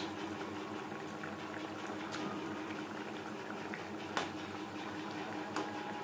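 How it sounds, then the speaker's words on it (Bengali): Tomato gravy for a chela fish curry bubbles in a pot, a steady close simmering hiss with faint pops scattered throughout and no voices. "গ্রেভি বেশ ভালো করে ফুটতে শুরু করে দিয়েছে।"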